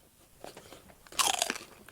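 Crunchy tortilla chips dipped in salsa bitten close up, a couple of soft chews and then a sharp, loud crackling crunch lasting about a quarter second, with no talking.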